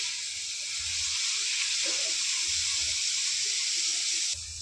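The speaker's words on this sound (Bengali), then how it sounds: "ভেজে নেব।" Vegetable paratha filling with salt, turmeric and green chilli fries in a pan, giving a steady close hiss and sizzle that cuts off sharply near the end, with a faint stir or scrape partway through.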